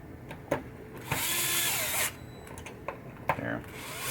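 Power screwdriver driving screws back into the switch stacks of a 1967 Williams Blast Off pinball machine: a close whirring burst of about a second, plus short clicks and knocks from handling the parts, with a voice talking briefly.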